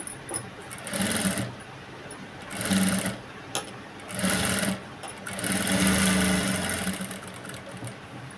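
A sewing machine stitches blouse lining in several separate bursts of rapid mechanical whirring, each run stopping briefly before the next, close and clear with quiet pauses between.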